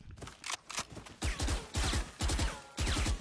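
Rapid bursts of gunfire in a first-person shooter video game, with several clustered volleys of sharp shots following a few scattered earlier ones, loud and close.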